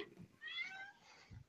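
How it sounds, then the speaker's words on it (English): A house cat meows at feeding time, a soft, faint cry with a rising then falling tone, heard once amid quiet room noise and a low voice. "Cat feeding time."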